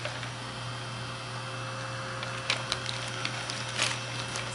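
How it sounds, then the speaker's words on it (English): A heat gun blows continuously on a foam stamp and burlap, making a faint, even whirring hum with a few light clicks and rustles. "I'm going to heat it up till it gets nice and soft."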